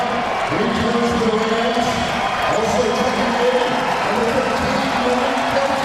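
Crowd at a VCU vs. St. Bonaventure college basketball game cheering a player in the arena: a loud, steady roar of cheering and noise that carries throughout, with a commentator's voice talking over it.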